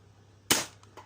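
A Worker Cheetah 2.0 foam dart blaster fires one sharp, close snap through a chronograph, followed by faint clicks from the mechanism in an otherwise quiet room.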